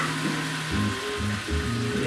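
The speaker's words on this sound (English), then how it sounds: "Listen to that sizzle." Bacon and a splash of vodka sizzle hard in a hot pan, a loud, close, steady crackle with a low hum underneath.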